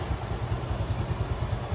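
A Suzuki FU motorcycle engine idles with a steady low rumble and rapid putter, close and loud, with no talking.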